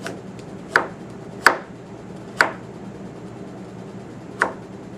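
A kitchen knife chops food on a cutting board, cut into slices by a cook working without sight: four sharp, separate knocks, close and loud, with quiet gaps between them.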